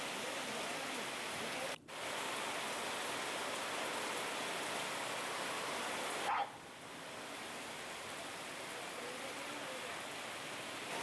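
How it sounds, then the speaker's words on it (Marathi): Heavy monsoon rain in Ulhasnagar during a thunderstorm, heard as a steady broadband hiss. Two brief dropouts break it, with no voices. "उल्हासनगरमध्ये विजेच्या कडकडाटासह मुसळधार पावसानं हजेरी लावली होती"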